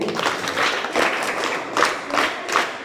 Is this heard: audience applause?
yes